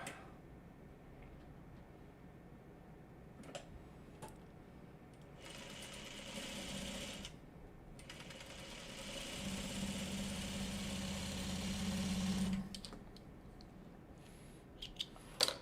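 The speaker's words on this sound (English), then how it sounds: "Then we will sew 1/4 inch on both sides." A sewing machine stitches quarter-inch seams on a quilt block, faint running bursts of a few seconds each separated by pauses, with a rattly hum near the end.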